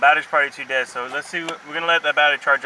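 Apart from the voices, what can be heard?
None of the usual background noises is heard.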